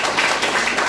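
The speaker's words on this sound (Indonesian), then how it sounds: "berikan tepuk tangan, saudara" A church congregation claps together, a brief, loud and dense wash of applause with no voices over it.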